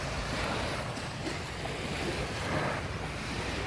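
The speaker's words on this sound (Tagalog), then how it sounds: "Ganda ng dagat." Sea waves wash continuously against the shore, a steady broadband surf roar with gentle swells and some wind noise across the microphone, with no voices.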